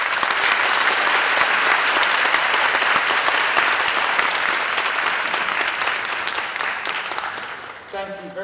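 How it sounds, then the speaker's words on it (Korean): Audience applause for Nobel laureate Dr. Tim Hunt after his lecture and question session at a special Nobel and Ho-Am Prize laureates' event, loud sustained clapping from a large hall that thins near the end. "우리 팀 헌트 박사님께 큰 박수로 맞이하겠습니다"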